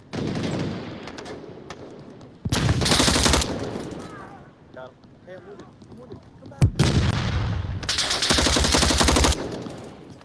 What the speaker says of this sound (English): I'm gonna start spraying my gun while they're around the room.